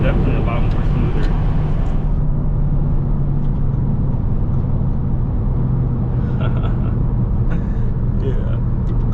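Audi S3 with upper and lower inserts driving steadily on a road, its engine drone loud and continuous throughout, with gear changes smoothing into the same sustained hum.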